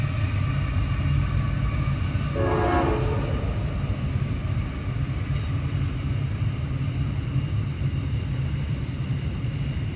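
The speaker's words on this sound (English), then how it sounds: "The train has to go past while we're doing video on here" A train rumbles past close by a house beside the rail line, a continuous loud rolling roar throughout, with a short horn blast partway through; no talking.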